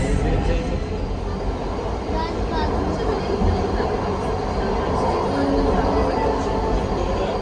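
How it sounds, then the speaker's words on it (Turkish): Steady rumbling roar of a metro train carriage in motion, continuous and loud throughout, with faint rail clatter and voices talking underneath. "Şu an metrodayız gidiyoruz."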